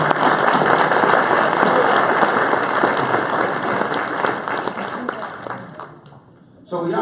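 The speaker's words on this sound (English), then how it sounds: "Let's clap it up" An audience at a Martin Luther King Jr. celebration applauds, a dense sustained wash of many hands clapping that gradually tapers off near the end.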